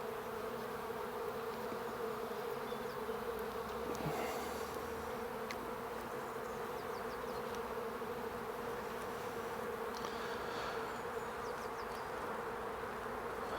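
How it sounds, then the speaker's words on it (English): Honeybees buzz steadily on the comb while a hive is opened for inspection, a continuous close drone with a few louder passes from individual bees, no talking. "Again, the bees are looking quite healthy. Nice and calm on the comb."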